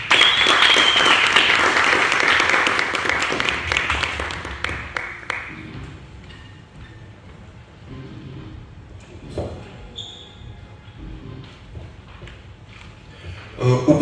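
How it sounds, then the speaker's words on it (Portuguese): An audience gives loud, dense applause for a guest artist at a university event, a full roar of clapping for several seconds that thins into scattered claps and fades, then briefly swells again at the end. "uma forte salva de palmas a Keita Manhanda"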